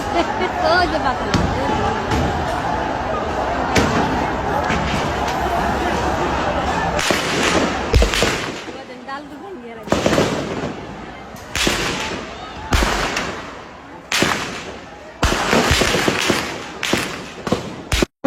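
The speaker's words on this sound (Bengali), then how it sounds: "ওই যে গুলির শব্দ হয়তো পাইতেছেন" Sharp gunshot cracks ring out in an irregular series, some close together, after a stretch of loud noisy commotion during an attack on army and police vehicles outside a garment factory in Ashulia.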